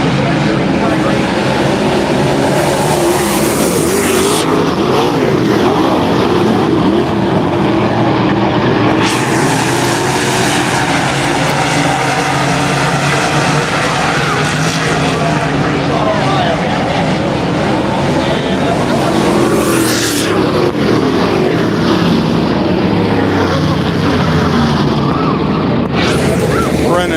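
Late model race cars roar around Muskingum County Speedway during a green-flag heat race, a steady loud engine drone that swells as cars pass, heard alone without talk.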